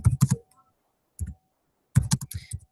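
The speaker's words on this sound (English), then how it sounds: "So if I type in here" Typing on a computer keyboard to enter a visit comment, short bursts of quick close key clicks separated by pauses.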